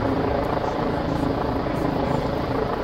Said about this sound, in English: Police. 2 helicopters behind me.